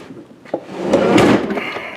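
Wooden cargo drawer being shoved shut and locked, a soft slide ending in a dull thump, close and fairly loud, with continued rubbing and handling noise after.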